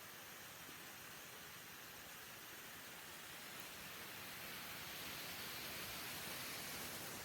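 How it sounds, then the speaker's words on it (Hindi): Water pours over the Latif Sahab dam in Chakia, Chandauli, Uttar Pradesh, a steady, faint, broadband rushing hiss that holds evenly throughout with no voices. "एक बार आप सुनिए पानी का आवाज़।"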